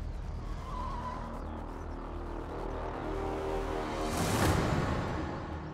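A car, Molly's, approaching with a rising engine rumble and tire noise, growing louder and peaking in a brief whoosh as it draws near.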